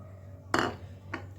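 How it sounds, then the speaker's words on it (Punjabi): A spoon clinks twice against a glass while chia seeds are added to sharbat: one sharper tap, then a lighter one, close and quiet. "ਹੁਣ ਅਸੀਂ ਨਾਲ ਹੀ ਪਾ ਦਵਾਂਗੇ ਚੀਆ ਸੀਡਸ ਇਹ ਵੀ ਮੈਂ 2 ਚਮਚ"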